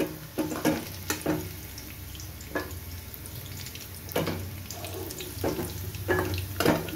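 Sliced onions frying in hot oil into beresta for rui fish korma, a soft steady sizzle punctuated by intermittent clinks and scrapes of a utensil stirring, close and moderately quiet.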